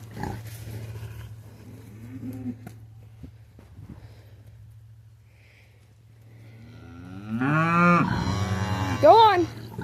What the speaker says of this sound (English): I was getting the cows.